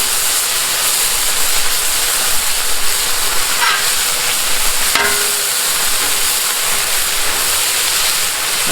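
Bacon sizzles steadily on a Blackstone griddle over two burners set to medium-low, giving a continuous loud crackling hiss with small pops throughout and no voices.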